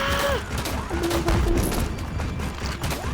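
Gunfire in the Roblox game Rusty Rafts, a dense rattle of shots running throughout alongside game effects and tones, with faint voices mixed in.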